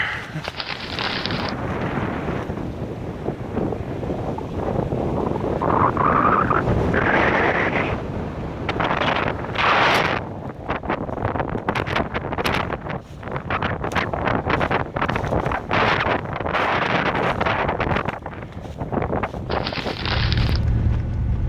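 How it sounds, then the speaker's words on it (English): Strong gusting wind by a riverbank on a cold day before snow, roaring and buffeting the microphone in loud, uneven surges with no talk. "Man, that wind was freaking brutal."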